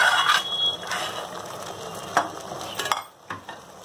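Cooked rice and dal for bisi bele bath get stirred with a spoon in a pot, giving soft scraping and clinking strokes at an uneven rhythm, close and moderately loud.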